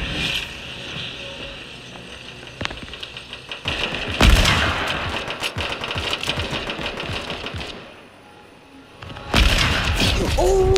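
Fortnite gunfire from a hunting rifle and a blue SMG, with sharp shots and rapid bursts that cluster heavily near the middle and again near the end over a steady game soundtrack.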